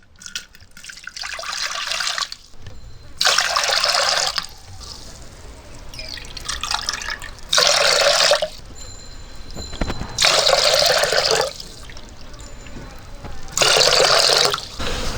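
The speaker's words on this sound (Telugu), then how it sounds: "ఈ లెక్కన గ్లాసు పిండికి గ్లాసు నర నీళ్లు పోసుకోవాలి" Water is poured in repeated bursts from a glass into ragi flour for village-style sangati, four or five loud splashing pours separated by quieter pauses with a few drips.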